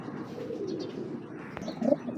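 Strong pigeons, a pair aged about 23 and 24, coo softly and continuously against a murmuring background, with a brief sharp click near the end and a fuller coo after it.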